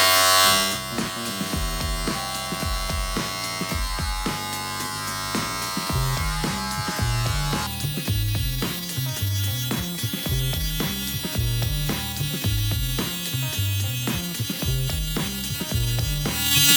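Electric hair clippers with a guard fitted hum steadily through a home haircut during lockdown, the motor buzz continuous and close, with a rhythmic pulsing as the blades cut and blend hair.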